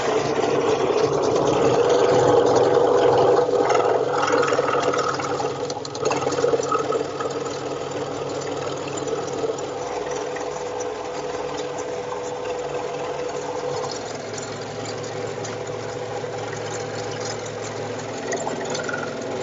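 Scroll saw with a 20-inch throat and a fine, delicate blade cutting wood, a steady mid-pitched mechanical buzz with fast reciprocating chatter that holds at an even level throughout.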